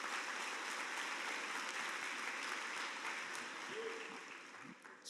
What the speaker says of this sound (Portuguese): dê uma forte salva de palmas ao Senhor nessa hora